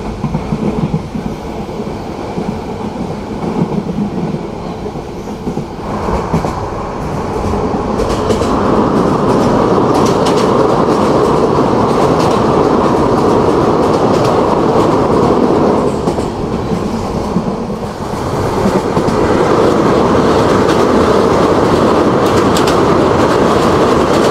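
An express train passing at Feni Junction, heard from aboard another train, a loud sustained rumble and rhythmic clickety-clack of wheels on rails that swells and continues for over twenty seconds.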